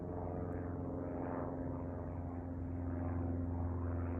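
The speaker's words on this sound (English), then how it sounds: "This plane that is passing above, that comes by religiously" A propeller airplane passes overhead, a steady droning engine hum that slowly swells and wavers, filling the whole stretch at moderate loudness with no voices.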